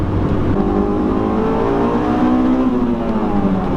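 A stock Honda S2000 engine revs continuously from inside the car, a loud, steady high-pitched whine with rising and falling harmonics and no talk over it.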